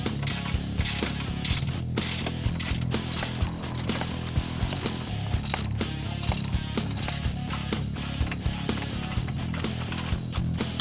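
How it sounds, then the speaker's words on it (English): A ratchet clicks rapidly and steadily while the lower control arm is unbolted from the frame of a Can-Am Defender UTV, close and continuous with a few sharper knocks and no talk. "Now we're gonna get our lower control arm unbolted from the frame."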